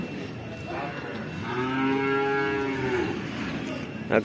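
A water buffalo at a livestock market in Kollannur lets out a single long, low moo close by, rising and falling over a couple of seconds against faint background noise.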